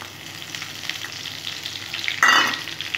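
Whole cumin, dried red chillies, cardamom, cinnamon and bay leaf fry in hot oil as a tempering, giving a steady close sizzle with stirring that swells into a louder burst near the end.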